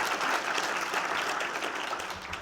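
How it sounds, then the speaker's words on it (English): A crowd at a conference closing session claps steadily and enthusiastically, a dense wash of applause that holds at an even level throughout. "Give yourselves a round of applause."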